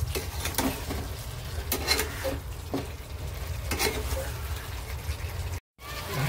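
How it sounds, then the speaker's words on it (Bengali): Potatoes and spices fry and get stirred in a pan for Bengali aloo dum, a steady sizzle broken by repeated scraping stirs, with a brief dropout near the end. "এই হলো আলুর দম কষা হচ্ছে, দেখো পুরো একদম ভাজা ভাজা হয়ে যাবে"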